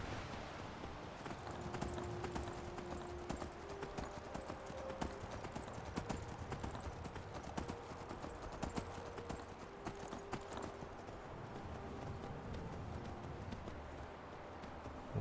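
Horse hooves clip-clop steadily in Skyrim Anniversary Edition, a close, even stream of hoof beats under a faint background drone, with brief talk over it.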